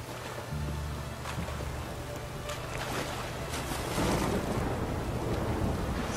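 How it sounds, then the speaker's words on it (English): Thunderstorm with rain in The Witcher 3, a steady roar of rain and rumbling thunder that swells louder toward the end, with a brief voice near the start. "Lightning and thunder like that? I'm afraid to get on my horse."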